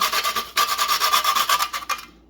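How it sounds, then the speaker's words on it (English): Nutmeg grated by hand on a rasp grater in a home kitchen, a close, loud run of rhythmic scraping strokes that stops abruptly at the end. "So I'm gonna grate some nice nutmeg."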